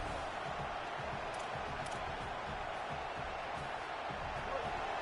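Broadband stadium crowd roar from EA Sports College Football 27, a steady dense wash of cheering with no breaks, as fans rally behind the defense during a red-zone stand.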